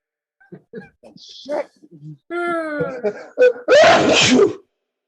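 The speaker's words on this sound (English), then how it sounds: "you just gonna sneeze on Zoom like that?" After a few short, strained vocal noises, someone lets out a single loud, forceful sneeze up close.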